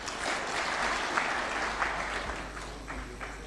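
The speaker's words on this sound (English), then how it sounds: "a round of applause for His Excellency one more time" Sustained applause from an audience at State House for President Ruto after a speech, a dense steady patter of many hands holding at even strength throughout.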